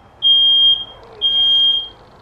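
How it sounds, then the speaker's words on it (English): A smoke alarm gives two long, steady high-pitched beeps in a row, loud and close, with a short gap between them, set off by steam upstairs. "And our fire alarm"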